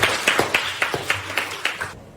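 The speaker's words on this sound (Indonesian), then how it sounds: "terima kasih, tepuk tangan buat kita semua." Students clapping in a history classroom during a teaching session: a short round of about eight distinct, fairly loud claps in an uneven rhythm, then silence.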